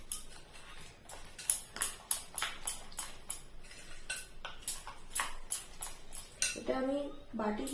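A spoon clinks again and again against a bowl while homemade cake cream is mixed, giving irregular bright taps, close by and fairly quiet, with a louder run of rapid clinks near the end.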